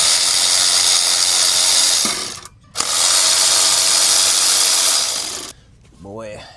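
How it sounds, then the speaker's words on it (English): Electric ratchet spinning out timing cover bolts on a Suzuki Every van with an F6A engine, two loud sustained whirring runs separated by a brief pause, close up, followed by a short stretch of speech. "Boy, is that new electric little ratchet a lifesaver."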